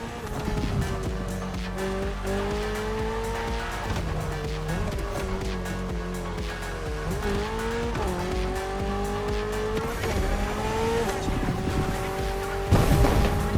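Toyota GR86, a lightweight naturally aspirated sports car, racing in The Crew Motorfest, its engine note rising and falling through gear shifts with tire squeal, loud and steady throughout.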